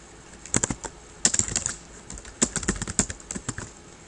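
Keys on a computer keyboard tapped in short bursts of clicks separated by brief pauses, close and fairly quiet, with no voices present.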